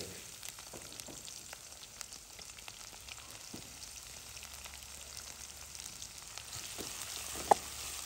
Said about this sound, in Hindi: प्याज इसमें हम शामिल कर देंगे।